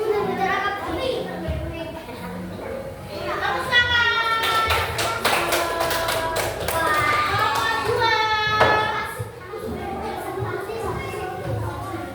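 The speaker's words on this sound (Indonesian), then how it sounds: "Tepuk tangan." A class of young schoolchildren clapping together in a classroom, a dense run of hand claps over several seconds with children's voices chattering throughout.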